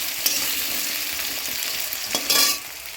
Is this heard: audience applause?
no